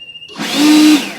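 A Litheli U20 cordless leaf blower spins up from near silence into a loud, broadband rush of air with a faint whine, building quickly and holding steady for about a second.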